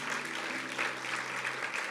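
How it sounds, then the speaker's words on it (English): A church congregation claps steadily throughout, a dense, moderately distant patter of applause in a hall during a live service, with a low hum underneath. "Just give him a clap."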